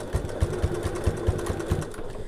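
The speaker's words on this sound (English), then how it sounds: "I'm just going to do a little bit of back stitching here" Sewing machine running a short back stitch along a gift bag seam, a rapid close mechanical clatter of about a dozen evenly spaced needle thumps, with no talking.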